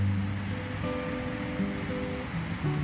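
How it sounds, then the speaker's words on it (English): A waterfall at Norheimsund in western Norway, a continuous broad roaring wash of falling water heard from nearby, steady and fairly loud, with faint tonal hums layered underneath. "I really love waterfall."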